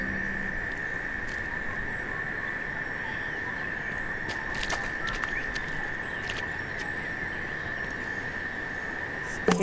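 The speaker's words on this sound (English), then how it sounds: "Cicada." In a wetland scene from the game Paperbark, a cicada's shrill buzzing trill holds on without a break, with light patter and faint ticks beneath and a brief knock at the very end.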